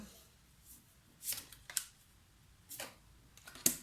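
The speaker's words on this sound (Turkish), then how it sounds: "Seçelim kartımızı." Light papery card sounds during a tarot reading, as a card is picked from the deck: a few soft, brief shuffles and slides, close and quiet, separated by near silence.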